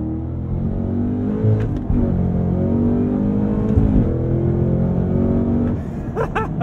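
Cadillac CT5-V Blackwing V8 exhaust roars steadily and loud as the car accelerates onto a highway, a continuous deep engine drone with rising revs and a brief shift break, heard from inside the cabin without talk.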